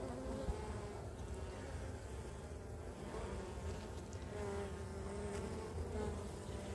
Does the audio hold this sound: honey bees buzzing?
yes